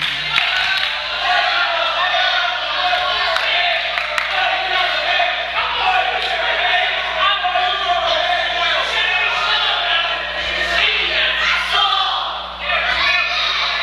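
Wrestling arena crowd at a match between two wrestlers, a dense steady roar of voices and shouts running throughout with scattered slams, under continuous talk.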